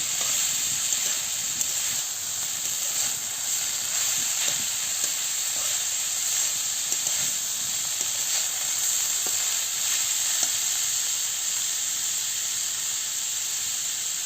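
Chopped banana stem fries and is stirred in a pan, giving a loud, continuous hiss and sizzle with occasional faint scrapes throughout.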